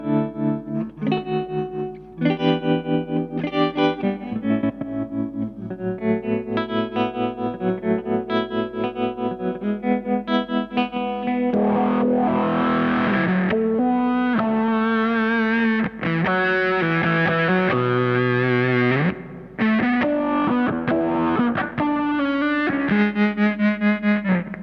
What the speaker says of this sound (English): just a tremolo